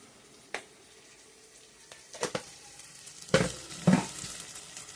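Spoon stirring a mutton dry curry, Andhra style, with turmeric, chili powder and salt, giving a few scattered scraping clinks and two louder stirs near the end over a faint background sizzle.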